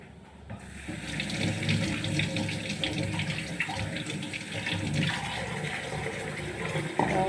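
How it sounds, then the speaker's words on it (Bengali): Tap water runs steadily into a bowl while four peeled onions are rinsed, with a splashing, gurgling wash close by and a small clunk near the end. "পেঁয়াজগুলোকে একটু ধুয়ে নিই।"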